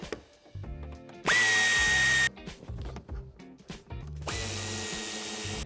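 A power drill removes a boot trim screw in a 2018-2024 Dacia Duster II. It runs in two loud, steady whirring bursts, one short and one longer, with quieter clicks and handling sounds between them.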